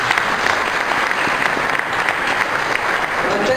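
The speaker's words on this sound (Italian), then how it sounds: "un applauso per lui" Concert audience applauding a bass soloist introduced before a Passion of Christ performance, steady sustained clapping from a large room filling the whole stretch without talk.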